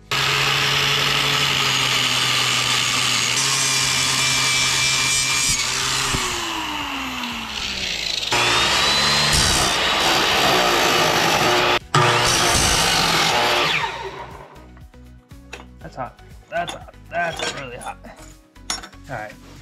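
A power saw cuts aluminum stock for a 90-degree joint, a loud continuous grinding, rasping screech lasting many seconds, then it winds down into scattered metallic clinks and handling noises.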